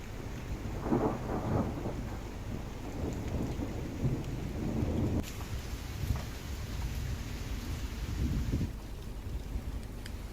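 Unseasonal rain falls steadily in Uttarakhand while thunder rolls in heavy low rumbles, with a sharper crack midway. The downpour hiss continues throughout, and no voices are heard.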